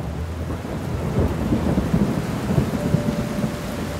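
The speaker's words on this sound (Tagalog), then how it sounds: "Kasabay ng pagbuhos ng ulan" Steady rainfall with low rumbling thunder, a continuous wash of rain carrying deep rolling booms throughout, moderately loud and heard without voices.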